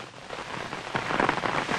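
Rain falling on a street, a steady broadband patter with slightly louder bursts toward the end, no voices.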